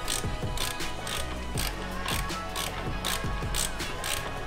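Mechanical ratcheting and metallic clicks as a spanner loosens a nut on a VW Transporter T5/T6 van, with repeated sharp clicks over a steady close mechanical hum, no voices.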